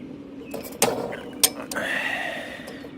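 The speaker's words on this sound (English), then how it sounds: "So we'll just unscrew this" A plumbing fitting being unscrewed by hand, a few sharp metallic clicks and knocks followed by a brief grinding creak of threads, close and clear with no talking.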